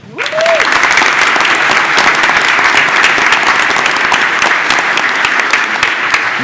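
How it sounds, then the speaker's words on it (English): A board meeting audience gives an extra round of applause for honored scholars and their teacher, a loud, dense, sustained burst of clapping that starts abruptly and holds steady to the end. "Let's give them one more round of applause."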